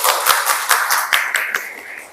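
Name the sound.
applause, clapping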